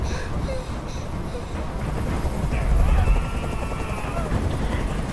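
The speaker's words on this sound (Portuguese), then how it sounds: "Vamos fazer o helicóptero sair daqui." A helicopter in the video game Detroit: Become Human gives a loud, steady rotor rumble that continues for the whole stretch and swells briefly near the middle.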